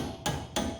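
Three sharp metallic hammer taps on a brake piston of a LADA NIVA in quick succession, close and evenly spaced, with no talking.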